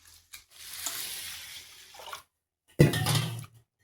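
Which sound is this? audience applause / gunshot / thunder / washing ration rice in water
washing ration rice in water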